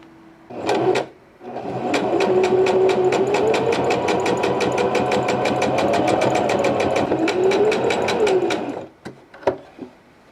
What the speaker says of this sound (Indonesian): menggunakan mesin obras untuk mengunci tepi kain, mencegahnya dari berjungai